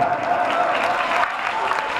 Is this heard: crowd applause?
yes